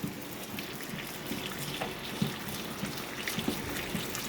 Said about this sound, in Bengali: ভেজে নেওয়ার পর আমি মশলা টশলা দিয়ে ভালো করে কষাচ্ছি।